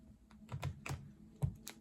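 Tarot cards dropping and scattering onto a surface during a reading, with several soft slapping clatters spread irregularly over about two seconds, close and fairly quiet, with no talk.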